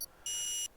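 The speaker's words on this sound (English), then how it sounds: "Oh, we hear the beeping." A short electronic beep in an F1 24 game lobby: one steady, bright tone lasting under half a second, loud and clean with no voices over it.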